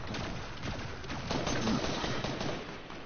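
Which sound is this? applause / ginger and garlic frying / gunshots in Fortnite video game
gunshots in Fortnite video game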